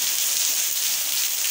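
Heavy rain pouring down in Tamandaré, Pernambuco, a steady dense hiss of downpour, loud and unbroken, with no voices.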